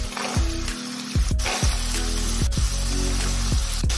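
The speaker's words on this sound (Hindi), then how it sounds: "अब जो राजमा हमने भिगो कर रखे थे उसे हम डालेंगे मसालों में" Soaked kidney beans tipped into a frying tomato masala for Punjabi rajma, setting off a loud, steady sizzle with repeated clattering knocks of a utensil against the pan.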